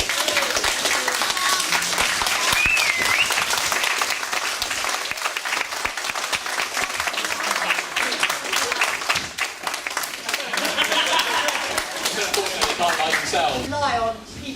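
An audience applauds a film crew at a screening, loud sustained clapping with some sharp individual claps standing out, continuing for roughly fifteen seconds with voices underneath.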